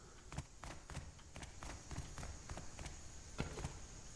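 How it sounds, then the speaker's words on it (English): Footsteps in the survival video game Rust, a steady series of faint, evenly spaced thuds and taps under a hissy background. "I could have sworn I just heard footsteps."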